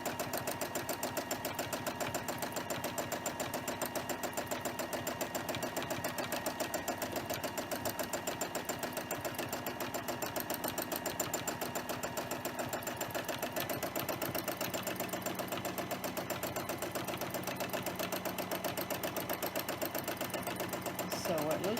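A sewing machine stitches fabric with variegated thread, its needle chattering in a fast, steady, even drone that runs unbroken throughout, close and prominent while a voice talks over it.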